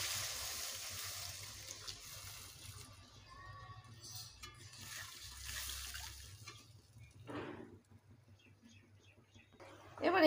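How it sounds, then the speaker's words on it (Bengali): Water poured into a pan of spiced fried potatoes while making a Bengali singi fish curry, a soft rushing splash that comes and goes over low kitchen hum. "এবারে দিয়ে দেবো পরিমাণ মতো জল।"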